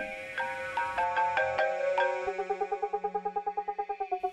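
A mobile phone ringtone plays a bright melodic jingle of chiming notes, then shifts to a fast repeating pulsed ring, clear and fairly close with no voices over it.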